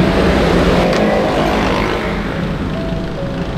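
Traffic on an uphill road in Metro Manila heard from inside a themed hotel's master bedroom, a continuous low engine rumble from straining vehicles, muffled and steady with a passing surge early on.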